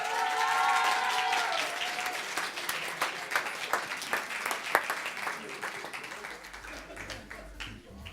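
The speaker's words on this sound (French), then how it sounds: "On peut les applaudir." An audience applauds prize winners at the Trophée mc6 2017 awards evening, a sustained burst of dense clapping that slowly thins out, with a voice speaking over the start.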